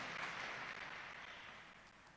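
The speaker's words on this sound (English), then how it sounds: "Let's give him a clap." A crowd applauds for a president at a cathedral gathering, a dense, steady wash of clapping that slowly tapers over two seconds.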